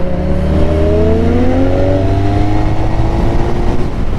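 A Nissan Skyline accelerating hard, engine pitch rising steadily through the revs, loud and close with a continuous roaring drone.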